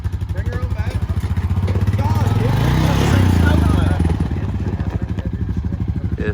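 A Honda Foreman ATV being unloaded at an offroad park, its single-cylinder engine chugging in a close, rapid, pulsing idle that swells in revs midway then settles, with people talking over it.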